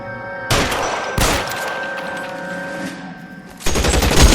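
Loud volleys of gunfire from the LA Noire video game crack in three distinct bursts over a steady background tone, close and sharp, with no talk.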